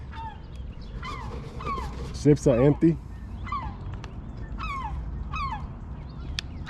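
A dog barks on a boat dock in a short burst of three or four sharp yaps midway, amid chirping birds and brief speech in the background.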